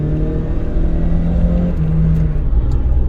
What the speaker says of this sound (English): My reaction to the acceleration of the 416 GTI.